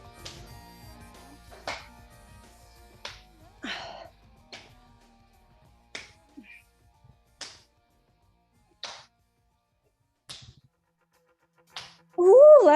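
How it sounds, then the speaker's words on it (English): Repeated sharp hand claps from a crunch-clap move in a barre workout, about ten evenly spaced slaps, close and fairly crisp, with faint breathing between and a brief burst of other noise at the end. "Pick your crunch clap, crunch clap position."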